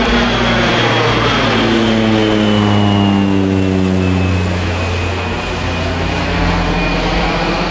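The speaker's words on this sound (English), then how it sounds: "Here comes this airplane again." A loud propeller airplane drones steadily overhead, its pitch sliding downward as it passes close above.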